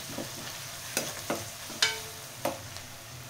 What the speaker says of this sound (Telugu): అల్లం వెల్లిగడ్డ వేసుకొని కలుపుకుందాం.